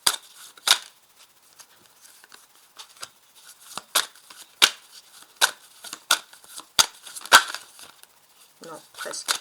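Lenormand cards laid one by one over a tarot spread, giving a series of sharp, close card slaps and soft shuffling rustles at an irregular rhythm, with no talk.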